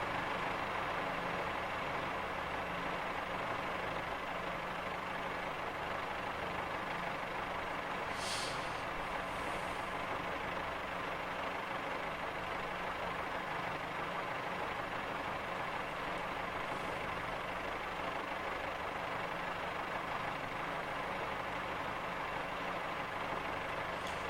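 A four-car Class 142 Pacer diesel train in Train Simulator 2015, a steady low engine drone and rumble that holds evenly throughout, with a brief hiss partway through.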